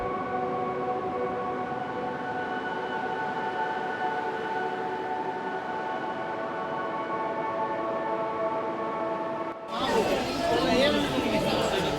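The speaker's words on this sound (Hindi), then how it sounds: "रेलगाड़ियों की इंजन की आवाज़, यात्रीगण के कदमों की हलचल" Busy Tatanagar railway station ambience with crowd chatter, footsteps and a steady droning train engine hum, then a sudden shift to louder, rushing rail noise near the end.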